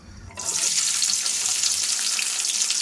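Onion and green chili hit hot oil in a pan and burst into a loud, steady hiss after a brief quiet start, with the sauté continuing evenly up close and no voices.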